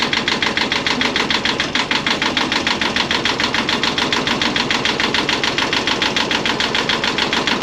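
A repaired boat engine idles steadily up close, its rapid even ticking and knocking pulse running without pause.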